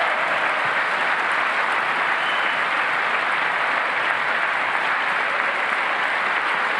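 A large crowd at the State of the Union address applauds steadily, a loud, dense and continuous wash of clapping with no pauses.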